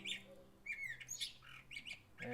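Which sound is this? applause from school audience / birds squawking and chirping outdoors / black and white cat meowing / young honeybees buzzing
birds squawking and chirping outdoors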